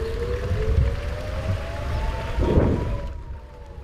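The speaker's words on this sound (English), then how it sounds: "the sound of an air raid siren from a neighboring kibbutz shatters the silence" An air raid siren from a kibbutz near Rosh Hanikra, Israel, wails in the distance, a long steady tone that slowly drifts in pitch, over low rumbling wind-like noise.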